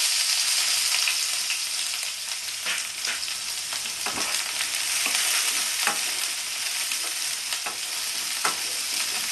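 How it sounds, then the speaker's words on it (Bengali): Onions frying in hot oil with panch phoron, a loud, steady sizzle up close with crackling pops and occasional stirring scrapes throughout, no voices. "পাঁচ ফোড়নটা ফুটে গেছে এবার আমি পেঁয়াজগুলোকে দিয়ে দেবো"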